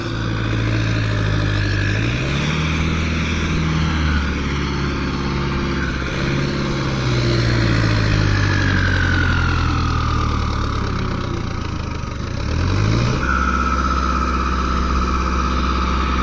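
A tractor engine runs steadily during testing, a loud, close, continuous rumble that shifts pitch slightly a few times without stopping.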